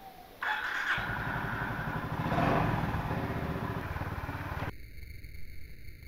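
A Honda CB350 RS motorcycle engine runs close and loud, revving up with a steady throbbing thump as the ride begins, then dropping back to a quieter idle.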